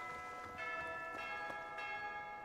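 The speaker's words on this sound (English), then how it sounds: "Wherever that bell dings, that means it is the end of the day" Church bell tolling in Fire Emblem: Three Houses, several resonant strikes ringing out with long sustained overtones that overlap and decay, with no talk over it.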